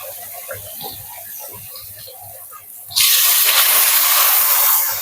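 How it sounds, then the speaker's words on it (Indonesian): Flour-dusted fish drops into hot cooking oil, and a loud, steady, broadband sizzle suddenly erupts and holds close by after quieter kitchen sounds and faint background talk. "Goreng ikan."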